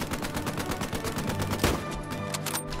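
A machine gun in a video game fires a rapid, sustained burst of evenly spaced shots, close and loud, with a heavier report partway through before the fire tails off.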